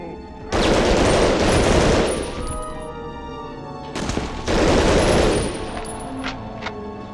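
Gunfire in the World War II shooter Medal of Honor: Underground, two loud sustained bursts of rapid shots, each roughly a second and a half long, separated by a quieter gap with scattered clinks and thuds.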